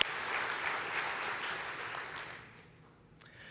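An audience at the ISMRM 2019 plenary awards session applauds, a broad wash of clapping that holds steady and then tapers off, with a last sharp clap near the end.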